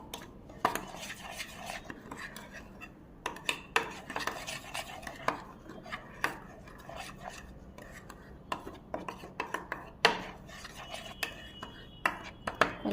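A spoon scrapes and clinks against a bowl while spiral potato batter is mixed with spices and salt. The taps and rubs come in irregular bursts, close and fairly quiet.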